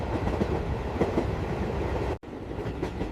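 A train runs along its rails through countryside on a summer trip, giving a steady rumble with rhythmic clickety-clack beats and one brief dropout near the end, with no voices.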